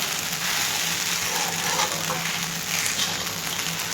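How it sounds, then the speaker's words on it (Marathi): Sabudana khichdi sautéing in a pan, covered with a lid, producing a steady, close, loud sizzle and frying hiss that continues without pause. "अजून जरा पाच मिनिट आपण चांगला असा झाकण ठेवून परतून घेऊ"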